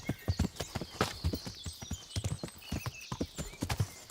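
Horse hooves gallop in the video game Kingdom Come: Deliverance, a fast, close, continuous clip-clop of hoofbeats in quick uneven clusters.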